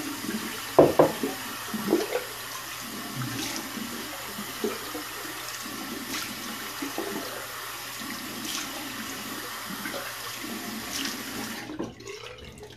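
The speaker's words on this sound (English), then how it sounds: "Let me go ahead and cold water rinse." Tap water runs and splashes into a sink during a cold rinse after a shave, a steady close stream that continues without talk and stops abruptly near the end.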